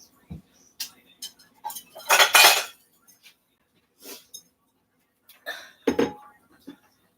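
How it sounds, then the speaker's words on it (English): Cutlery clinks and scrapes against a dish while a cooked albondiga meatball is pulled apart, in scattered close bursts with one longer scraping stretch and quiet gaps between. "I'm going to go ahead and pull apart an albondiga to make sure it's cooked"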